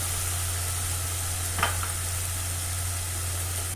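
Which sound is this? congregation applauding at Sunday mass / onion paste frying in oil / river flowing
onion paste frying in oil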